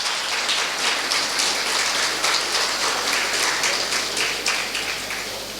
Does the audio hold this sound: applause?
yes